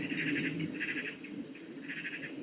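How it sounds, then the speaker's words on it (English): Magpies give harsh, chattering scolding calls in a garden near Pagham Harbour in the UK, rattling bursts that repeat at a distance over a low, steady background hum. "the scolding has brought in 2 more magpies"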